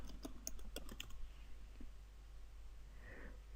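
Keys tapped on a computer keyboard while entering a search phrase into a website, a quick run of close clicks in the first second or so, then a few scattered taps and quiet room hum.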